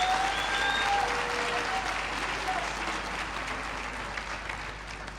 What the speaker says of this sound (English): to them, I want to give them a round of applause